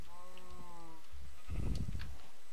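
A sheep in a video game bleats once in a wavering, drawn-out call, then a short burst of rustling noise follows; fairly quiet overall.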